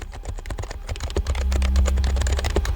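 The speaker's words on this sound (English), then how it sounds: "The iconic digital companion, Happy Hacking Keyboard." Fingers type on a Happy Hacking mechanical keyboard: a quick, close run of crisp key clicks and taps that grows slightly denser and louder toward the end, with no voice.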